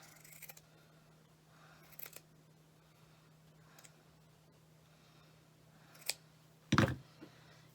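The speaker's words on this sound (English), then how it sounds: "And then I'm going to cut right here, along the line here." Scissors snip through a sock while crafting a Dollar Tree Halloween gnome: a few quiet, sparse clicks and cuts spaced apart, ending with a couple of sharper, louder snips close by.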